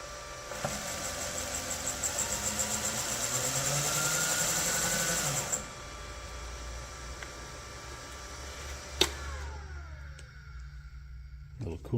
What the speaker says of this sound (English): Little cooling fan built in right here. That's the whizzing you hear.